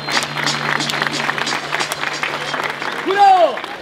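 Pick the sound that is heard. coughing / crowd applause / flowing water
crowd applause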